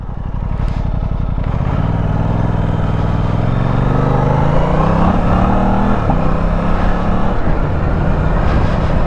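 An Aprilia RS660 sport motorcycle being ridden, its engine droning loud and close with rising and falling pitch as it pulls and shifts, with constant rushing wind over it.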